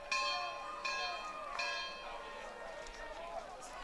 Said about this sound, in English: You can hear the bells clanging.